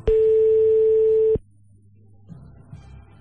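A telephone line sounds a single steady electronic tone for just over a second while a call is placed, then cuts off, leaving faint low rumbling and soft handling noise.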